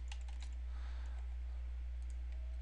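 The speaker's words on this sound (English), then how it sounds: "I'm just going to type in PM Studios." Quick, light keystrokes on a computer keyboard, a short run of quiet clicks over a low steady hum with no voices.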